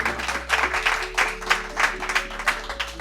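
Steady applause from a church congregation, a broad wash of clapping with rhythmic surges, continuing throughout.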